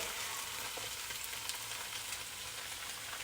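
Salmon sizzling in a hot pan, a dense, steady crackle of frying fat with occasional stirring scrapes, loud and close with no speech over it.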